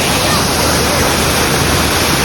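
Busay Falls pours water in a dense, steady, loud roar of broadband rushing noise, unbroken from start to finish.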